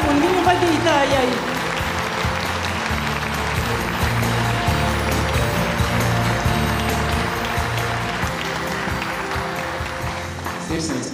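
Sustained applause from an audience at a jubilee concert for a Latvian dance group, dense and steady clapping filling the hall throughout with a faint voice near the end.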